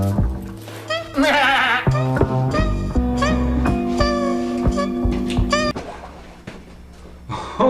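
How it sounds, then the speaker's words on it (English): A goat bleats several times, loud and wavering, over music and lively voices in a busy scene. "I'll take the goat!"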